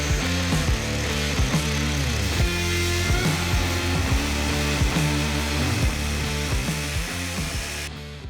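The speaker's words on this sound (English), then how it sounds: "Let's get a cutting wheel on there." An angle grinder fitted with a cutting wheel slices into motorcycle frame metal, a loud sustained whining drone with shifting pitch as the wheel bites and eases, running nearly continuously for several seconds with no talk.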